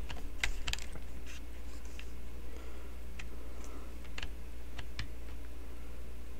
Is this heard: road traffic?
no